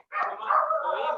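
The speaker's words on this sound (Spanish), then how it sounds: "Este perrito." A small dog gives one short, high whining bark that trails into a yelp, heard close and alone for about a second during an online meeting.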